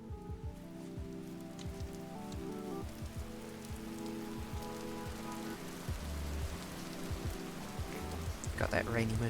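Steady in-game rain patters across the surface in Vintage Story, a constant wash of drops heard behind a low tonal music bed and occasional soft thuds, with a brief clattering burst near the end.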